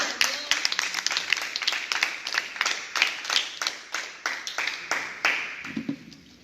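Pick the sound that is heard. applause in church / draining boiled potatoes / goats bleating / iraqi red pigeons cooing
applause in church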